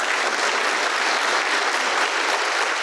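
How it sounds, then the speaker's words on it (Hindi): An audience at a spiritual talk claps together in a dense, even burst of applause that holds steady throughout. "ताली मत बजाइए,"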